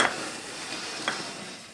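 A whisk stirs a garlic, oil and brine mixture for a turkey brine, a soft, close liquid swishing with a couple of brief clinks against the bowl.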